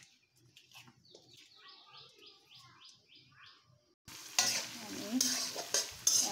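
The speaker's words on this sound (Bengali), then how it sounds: "এখন পটলের পুরের জন্য পেঁয়াজ আর রসুন এগুলো ভেজে নিচ্ছি সুন্দর মতো।" Chopped onion, garlic and green chili fry in a pan for a stuffed pointed gourd dish, a bright crackling sizzle with stirring that bursts in loudly after a quieter stretch of bird chirps and a brief word.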